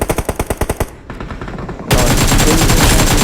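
AKM rifle firing in the PUBG Mobile video game: a rapid string of distinct close shots, a brief lull, then a dense, continuous loud burst of automatic fire.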